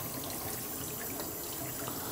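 Cold water runs steadily from a tap into a sample container, a close, constant hissing rush with no pauses and no voices.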